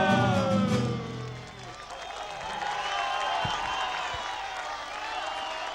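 Concert audience applauding at a 1998 show in Villa María, a dense wash of clapping and cheering that starts loud, dips briefly, then swells again, with traces of music fading at the start.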